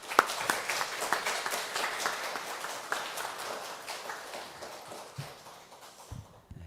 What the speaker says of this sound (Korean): 우리 장로님 나오실 때 박수로 맞이하겠습니다